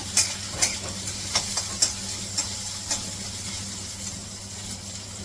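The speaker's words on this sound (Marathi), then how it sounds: "हे आपलं नारळ जे ओलं आहे त्याला भाजायला वेळ लागतो" Freshly grated wet coconut roasting in a pan over a gas flame, with a low steady hum and hiss under a series of sharp scraping stirs in the first half, then quieter.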